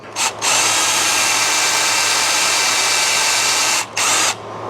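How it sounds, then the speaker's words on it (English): A power drill whines continuously at high speed, briefly cutting out twice, loud and close, with no talking, while drilling out an original rivet on a 1986 Liberty Harley-Davidson motorcycle. "Drill that rivet till it spins, like that."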